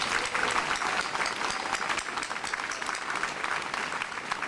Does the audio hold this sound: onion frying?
no